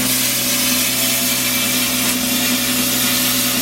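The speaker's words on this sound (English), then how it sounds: "Now I'm just going to go ahead and cut the circle out" A power saw grinds steadily through the steel bottom of a helium tank, cutting out a circle with a loud, unbroken, rasping tone and no pauses.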